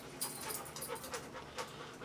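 A dog lying beneath the camera during a Homelite string trimmer carburetor replacement pants steadily and rapidly, close and fairly soft, with breathy rhythmic huffs and no talk over it.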